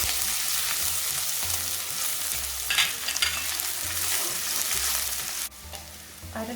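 Chopped garlic and ginger fry in a pan with spices for an Indian-style lamb curry, making a loud, continuous close sizzle with rhythmic stirring scrapes throughout.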